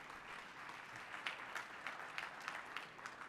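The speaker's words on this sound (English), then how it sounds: "yeah, round of applause." Faint, distant applause from a gala audience, a soft, steady patter with a few louder claps rising out of it at a loose, regular pace.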